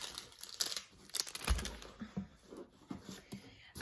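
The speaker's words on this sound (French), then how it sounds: "Ça va faire un peu de bruit, je suis désolée. Il y a un petit peu de papier." Paper crinkles and rustles close by in irregular bursts, with crisp crackling and soft tearing sounds as something is unwrapped.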